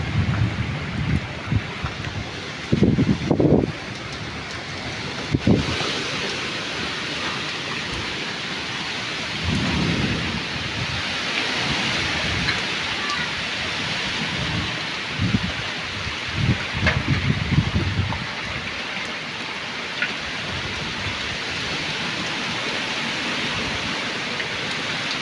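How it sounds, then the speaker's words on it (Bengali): A thunderstorm in Satkhira, Bangladesh, with trees thrashing in strong wind: constant heavy rain and gusts buffeting the microphone, and low rumbles of thunder rolling in and out. "ও কি সুন্দর ঝড় বৃষ্টি হচ্ছে, কি সুন্দর সুন্দর।"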